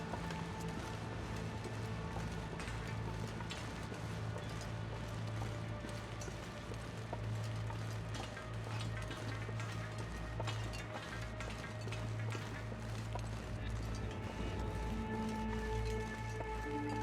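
A character runs across a railway trestle in The Long Dark, a quick, even patter of footsteps over a constant low wind-like drone.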